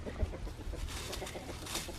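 Chickens cluck and murmur in a chicken yard, a steady mix of soft overlapping clucks with a few sharper calls, close by and without talk.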